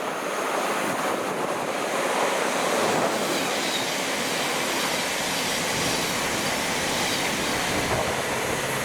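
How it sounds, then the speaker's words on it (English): A late-running Thameslink train passes through Brent Cross West station in a storm, a steady, loud broadband rush of wheels and air that fills the whole stretch, with heavy wind noise on top and no voices. "we've got a late running Thameslink service, braving the storm"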